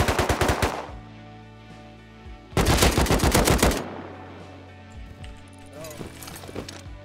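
Gunfire in a video game, with two loud bursts of rapid automatic shots, one at the start and a longer one in the middle, then quieter scattered sounds.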